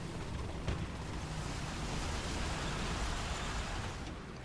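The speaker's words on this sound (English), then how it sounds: "I can hear shooting down there" Distant tank gunfire rumbles through a steady broadband wash in War Thunder, with a Panzer II H on the field, one sharper report standing out early amid continuous low booming.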